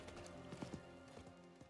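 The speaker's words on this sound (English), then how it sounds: "I'm going to hop on my horse" Horse hooves clip-clop in Diablo IV as a mount sets off, a few quick uneven hoofbeats at a moderate distance over a faint game background.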